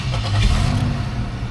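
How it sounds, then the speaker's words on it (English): A 2002 Chevrolet Monte Carlo SS showing only 12 miles fires up from a cold start, a short, loud, close burst of engine cranking that catches into a rising rev with no one talking. "Cold start."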